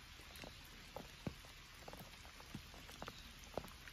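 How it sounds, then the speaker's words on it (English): Rain falls in a Pacific Northwest forest, a soft, faint, continuous patter with scattered louder drips striking nearby surfaces at irregular moments. "It says it was supposed to quit raining at 7, 8 o'clock this morning, but hasn't let up."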